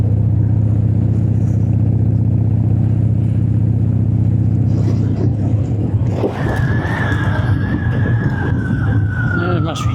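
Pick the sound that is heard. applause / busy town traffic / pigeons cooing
busy town traffic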